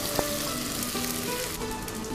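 Wide rice noodles deep-fry in hot oil with a dense, steady sizzle and crackle, close by and without voices.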